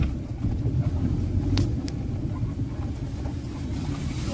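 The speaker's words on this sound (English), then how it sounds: "Engine giving up." A low, labored car engine rumbles steadily while off-roading, straining and droning without pause, with faint clicks and knocks over the heavy growl.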